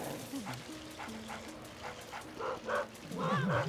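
A dog in the Luigi's Mansion video game yips and whimpers in quick rhythmic bursts, growing louder toward the end, with game music and a voice talking alongside.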